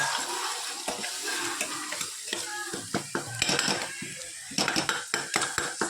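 Spices such as cumin, asafoetida, green chillies, red chilli powder and garam masala being mixed with vegetables in a pot: repeated clinks and scrapes of a metal spoon against the pot over a light sizzle, close and busy.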